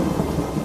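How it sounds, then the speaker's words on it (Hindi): Rain begins with thunder, a loud close low rumble that rolls continuously through the brief moment, with rain noise mixed in. "अरे देखो, बारिश शुरू हो गई।"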